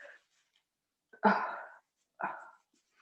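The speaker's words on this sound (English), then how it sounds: "Sorry, I'm going to sneeze." A single close, sharp sneeze with a quick intake before it, followed by a shorter second burst, then quiet.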